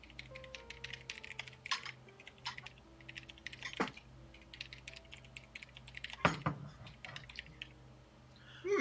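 Computer keyboard typing clicks away in irregular bursts of light taps, close and fairly quiet, over a low steady hum with a few louder sharp clacks scattered through.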